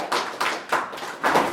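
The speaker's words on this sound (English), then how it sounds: "Round of applause for Sean." A small audience claps for a presenter in a short burst of applause, with a few uneven swells of hand claps close by and no voices.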